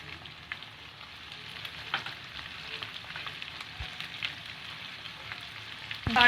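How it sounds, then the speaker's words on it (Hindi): Chicken frying with salt and spices in a pan, a continuous close sizzle with soft crackles and occasional stirring clatter, briefly louder at the end. "और इनको गोश्त के साथ भूनेंगे।"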